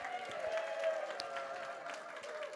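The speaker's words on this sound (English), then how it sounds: "huge round of applause?" Audience applause at an art auction, a soft, somewhat distant patter of clapping over a steady tonal background hum, fading slightly toward the end.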